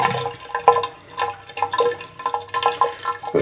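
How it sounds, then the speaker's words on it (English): Water gurgles and drains through the trapway of a small homemade toilet as it flushes, with irregular sloshing surges and drips that pulse through the bowl, close and moderately loud, no talk. "The trapway is filling up when there's enough water in the bowl, so then the whole thing can suck out."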